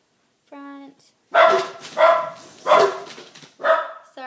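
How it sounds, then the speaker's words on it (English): Dogs bark loudly and close by, giving four distinct barks after a brief whine or whimper, with no talking over them. "Dogs are going nuts."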